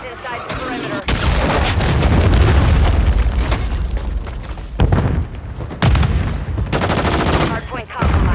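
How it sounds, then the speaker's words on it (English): Cruise missile strike in Modern Warfare 3: loud rumbling explosions and gunfire bursts, booming and cutting in and out repeatedly, while muffled voices talk underneath. "Hostile cruise missile incoming"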